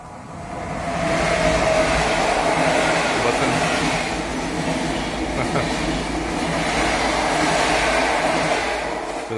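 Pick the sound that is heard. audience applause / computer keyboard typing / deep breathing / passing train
passing train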